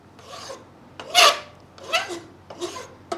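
A hand file rasps across a plasma-cut steel surface on a part clamped in a small drill press vise, giving three distinct scraping strokes, close and fairly loud, with short quiet gaps between them.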